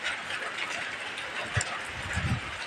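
Steady rain hisses outdoors in a residential area in Imus, Cavite, during a morning walk, with a few soft footsteps or thuds beneath it.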